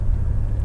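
A 1970 Mercedes-Benz 300SEL 6.3 sedan is driving, heard from the back seat as a steady, deep engine and road rumble inside the cabin.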